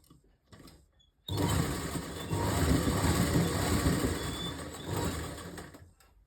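Sewing machine stitching the elastic belt of palazzo pants, a loud, steady whirring run of several seconds that starts abruptly after a brief quiet moment and stops near the end.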